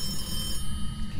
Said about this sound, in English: That was a phone.